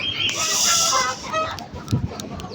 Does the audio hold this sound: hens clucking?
yes